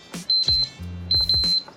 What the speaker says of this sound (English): if I close the little lever, which is here, it should go beep